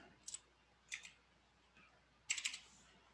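Faint, close computer mouse clicks during 3D modeling work arrive in a few sparse clusters: two quick double clicks, then a slightly louder burst of several rapid clicks near the end, with a quiet room hush between them.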